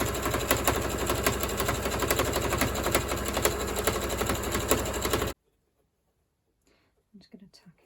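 Sewing machine stitching curtain fabric, a loud steady rapid mechanical whirr for about five seconds that stops abruptly, followed by near silence and a few faint soft sounds.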